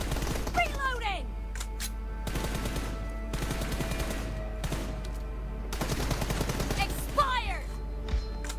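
Gunfire in a video game: bursts of rapid automatic shots and single cracks repeat over a steady background hum, with sweeping whistle-like effects and game voices mixed in.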